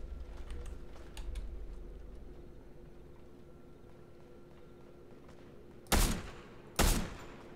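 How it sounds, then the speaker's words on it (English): Two sharp, loud gunshots in the video game Sewer Rave ring out a second apart after a stretch of quiet low hum and faint clicking. "I heard some gunshots from this direction."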